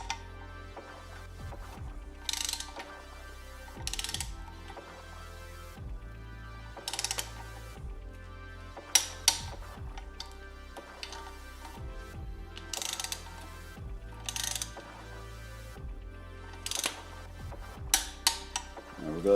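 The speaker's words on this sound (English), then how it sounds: "Get this thing torqued down, and then we'll torque down the nut." Mechanical ratcheting and metallic clicks from a torque wrench tightening a bolt during a 302/351 Ford timing chain installation, with repeated short bursts of clicking and tool clinks at moderate volume, close up.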